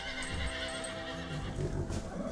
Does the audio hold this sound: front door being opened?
no